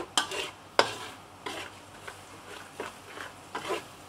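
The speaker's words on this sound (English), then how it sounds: "Continue stir fry until well blend and aromatic." Dry curry paste with lemongrass is stir-fried in a pan for mud crabs, giving a soft sizzle broken by about six distinct scraping stirs of a utensil at irregular intervals.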